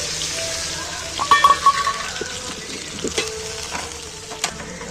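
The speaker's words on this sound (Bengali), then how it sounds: "মশলা ধোয়া পুরো জলটা এর মধ্যে দিয়ে দিচ্ছি" Water left over from rinsing spices is poured into chicken curry frying in a pan, giving a steady, moderate sizzle with a few brief splashy bursts and light clinks.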